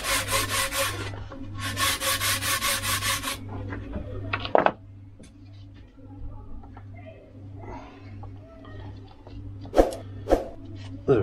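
Light sanding of a model aircraft wing part, a few bursts of rhythmic rasping strokes on wood early on, then quieter handling and a couple of sharp taps under a steady low hum.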